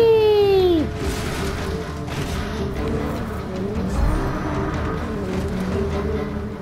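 Car driving in the video game Just Cause 3, a steady engine drone with a falling whine near the start and loose rumbling and scraping throughout, moderately loud with no talk.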